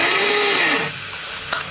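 Reamer finishing a pre-drilled hole in a cam chain case for a four-cylinder Honda Monkey engine build, giving a close, steady whining cut that winds down midway, followed by quieter shop noise and a brief tap.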